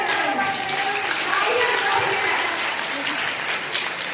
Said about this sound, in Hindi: तालियां दो